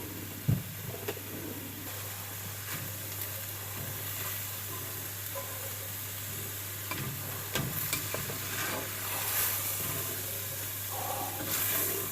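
Hamburger meat browns with onions and garlic in a hot pan for chili, a steady low hiss of frying fat with occasional spatula scrapes and a couple of sharp knocks, quiet and continuous.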